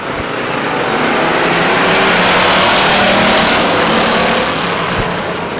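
Race cars accelerate together off the start of an evening stock car race at Stockton 99 Speedway, a loud, sustained roar of many engines that swells and holds steady for several seconds, with no talk over it.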